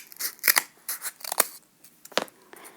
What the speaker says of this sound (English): I'm going to just give it just a tad of a trim here on the side